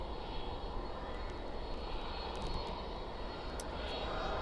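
A jet airliner engine at Dallas/Fort Worth International Airport at night roars as a steady, broad distant rumble with a constant hiss, no voices over it.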